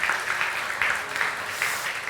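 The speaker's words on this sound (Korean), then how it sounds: "박수 한번 해주실까요?" Congregation clapping at a church youth joint worship service, a dense, steady patter of many hands filling the room for about two seconds, with slight swells in intensity.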